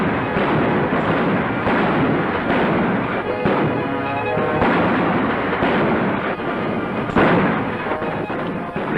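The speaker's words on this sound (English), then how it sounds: "Pretty good shooting, Knight." Gunfire in a western thriller film, loud sharp shots and heavy booming reports over a dense, noisy film soundtrack, close and forceful.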